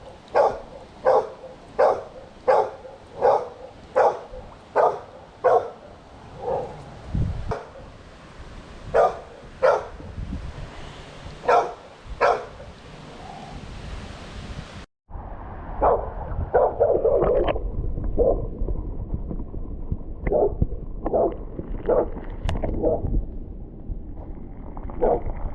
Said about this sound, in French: je suis désolé, le chien n'arrête pas de gueuler.